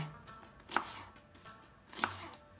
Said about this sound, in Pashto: پیاز باید ښه صحیح وړکای وړکای ټوټې شي